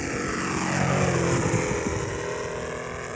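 A 126-inch RC Westland Lysander model aircraft with a Saito FG90 petrol engine makes a full-throttle pass, giving a loud, steady, buzzing engine drone that holds throughout.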